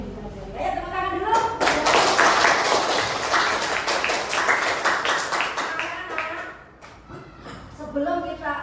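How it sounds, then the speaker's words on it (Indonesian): A class of schoolchildren clapping their hands together, a loud sustained burst of many hands that fades out, with children's voices and a teacher talking around it. "Ayo tepuk tangan dulu"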